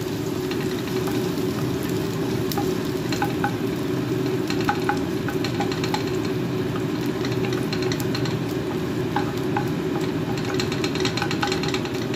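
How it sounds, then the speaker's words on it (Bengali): Green chili and chopped garlic tempering in hot oil, a continuous dense sizzle with crackling pops scattered throughout, close and steady with no talking. "একটা কাঁচা লঙ্কা দিলাম আর একটু রসুন ফোড়ন দিলাম।"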